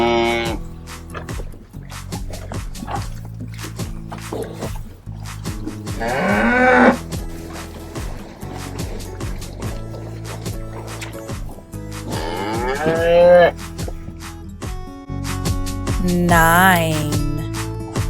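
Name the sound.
cows mooing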